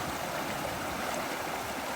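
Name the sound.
small creek flowing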